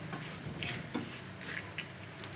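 A spoon stirs pulihora, tamarind rice, in a pan after salt is added, giving several soft scraping sweeps and light clinks over a faint background sizzle, close but quiet, with no voices.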